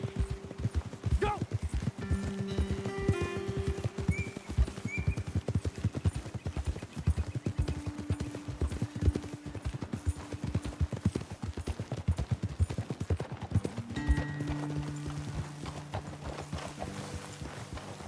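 Horses trotting and galloping in the Western video game Red Dead Redemption 2, a fast run of hoof clip-clops with occasional snorts, under a voice and game dialogue.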